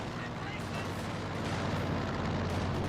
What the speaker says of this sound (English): the cannon strike miss destroys that T-34-76